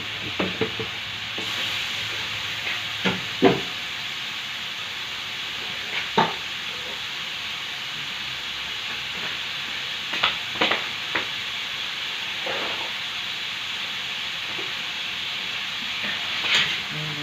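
Tomatoes and aromatics sauté in a pan for a dish of shrimp with squash and long beans, a continuous soft sizzle broken by repeated scraping stirs and occasional knocks of the utensil.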